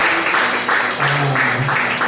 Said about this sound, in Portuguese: Uma salva de palmas para Jesus Cristo.